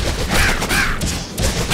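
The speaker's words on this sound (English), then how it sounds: "let's take care of these birds" Crows cawing in the Cat Quest 3 video game, a few harsh caws in quick succession over a busy layer of game sound, loud and close.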